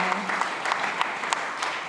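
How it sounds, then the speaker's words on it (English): Applause from an audience at a SXSW panel on regenerating farms, moderately faint with scattered distinct claps in an irregular rhythm, heard alone without talk. "Please give her a round of applause."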